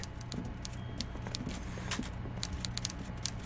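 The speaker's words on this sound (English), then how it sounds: "Typewriter." Typewriter sound effect from the video game Disco Elysium: a steady run of sharp, dry mechanical clicks and taps over a low background hum, close and fairly even in rhythm.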